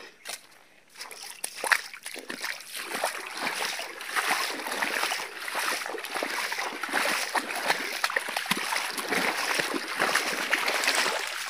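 Water rushes and splashes steadily, a noisy continuous flow like a river nearby, with occasional louder sloshes throughout.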